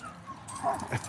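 A dog whimpers and yips in short, broken bursts at close range, a restless fussing sound over a low background hum.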